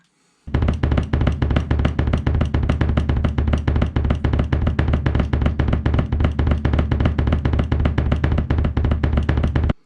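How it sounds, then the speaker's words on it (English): A bass drum repeats a three-stroke figure, a double from one foot followed by a single from the other, in a fast steady stream of punchy low thumps, close and alone. "then you can do a double with one foot followed by a single on your weak foot"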